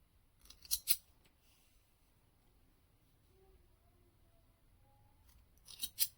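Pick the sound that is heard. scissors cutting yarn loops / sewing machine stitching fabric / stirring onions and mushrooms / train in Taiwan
scissors cutting yarn loops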